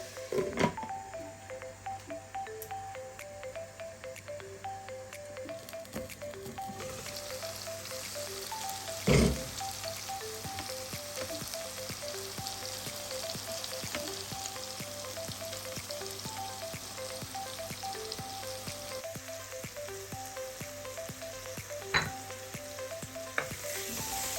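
Masala for a prawn and ash gourd curry frying in a pan, a continuous sizzle with repeated stirring scrapes and a couple of sharper knocks, steady and close.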